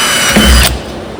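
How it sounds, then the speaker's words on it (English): A drill bores out a corner of a trailer box, a short loud whirring grind that runs steadily, then cuts off abruptly with only faint residual noise afterward. "I'm gonna drill out each corner"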